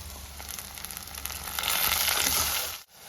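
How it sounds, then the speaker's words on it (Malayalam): Chopped tomatoes go into a pan of sautéed onions for a Kerala-style tomato curry, giving a loud, close, steady sizzle that swells for a few seconds before cutting off abruptly. "ഈ സമയം നമുക്കൊരു രണ്ട് തക്കാളിക്ക് അരിഞ്ഞത് ചേർത്ത് കൊടുക്കാം"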